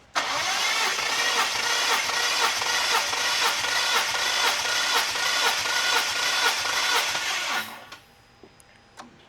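A Nissan VQ engine cranks on the starter during a compression test, a steady rapid churning drone held for about seven seconds before it cuts off abruptly into near silence.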